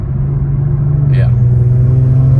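The engine of a 2018 Kia Stinger with a Lap3 Pro-Tuner drones steadily and close, and a short rising whistle of the turbo spooling up cuts through partway along. Someone talks over the engine noise.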